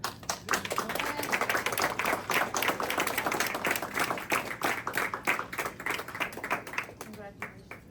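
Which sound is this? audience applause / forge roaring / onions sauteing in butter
audience applause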